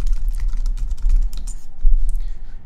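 Rapid clicking of keys on a computer keyboard as a web address is typed, close and steady for a few seconds with no voices.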